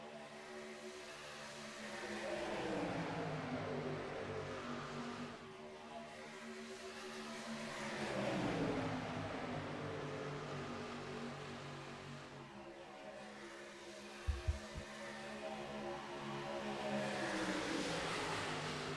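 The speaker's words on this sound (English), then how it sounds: "just listening to the sounds of the trucks" Racing trucks in a video game drone past in repeated engine sweeps, rising and falling pitch as each pack passes, fairly quiet and steady, with a brief sharp knock near the end.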